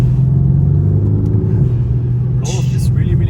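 Mercedes C63 AMG engine drones low and steady while cruising, a loud rumbling hum under the cabin, with a voice talking over it.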